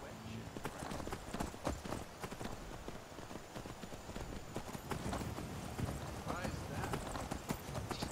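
Repeated video game horse hoof clip-clops at a walking pace, a busy clatter that runs steadily throughout.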